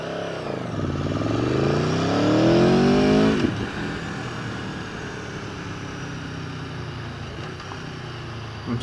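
A 2017 Aprilia Tuono Factory motorcycle engine revs up through the gears, its rising pitch climbing loudly for about three seconds, then drops into a steadier throaty drone as the bike rolls on, close and prominent.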